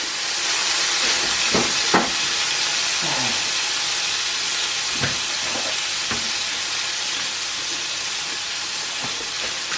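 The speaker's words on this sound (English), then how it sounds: "So this time I'm just gonna sear that fat off a little bit" Fat on a rump steak sears in a hot pan with a steady, bright hiss and sizzle that holds throughout. A few soft clicks and taps rise briefly above it.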